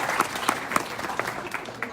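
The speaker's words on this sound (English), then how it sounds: "let's give them a clap again" A crowd at a beer-sponsored launch event gives a short burst of scattered clapping, individual sharp claps standing out while people talk over it.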